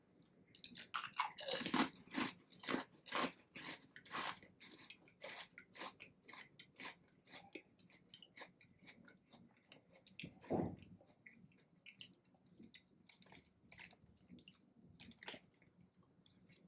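Close, quiet crunching and chewing of Duros and homemade-style potato chips, with repeated sharp bites followed by softer, wetter mastication across several seconds and no talking.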